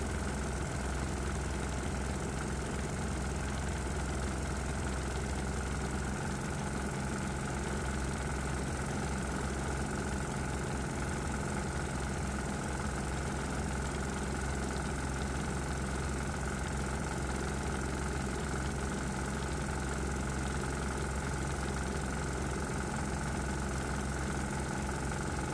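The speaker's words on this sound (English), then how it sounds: "as I slowly open the valve, you may be able to actually hear the engine smooth out" A small 196 cc, 3 hp single-cylinder diesel engine running on propane runs steadily at idle, a constant low rumble with a rough, knocking texture throughout.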